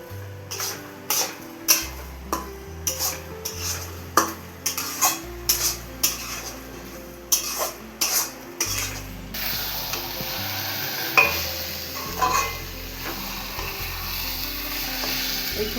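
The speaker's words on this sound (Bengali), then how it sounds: "ভালো করে নেড়ে দিতে হবে, মিশিয়ে দিতে হবে এর সঙ্গে খুব ভালো করে, যেন কোথাও দলা না পাকিয়ে যায়" Carrot halwa being stirred in a pan as milk is mixed in, giving a steady run of scraping, clicking strokes over a soft sizzle, fairly close and loud with no talking.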